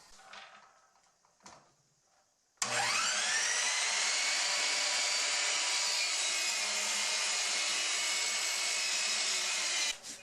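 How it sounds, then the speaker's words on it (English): A power saw cuts wooden leg stock for a Roubo-style workbench, a few light knocks first, then a sudden loud, steady high whine held for about seven seconds before stopping abruptly. "We're going to cut the leg stock 40 inches or so"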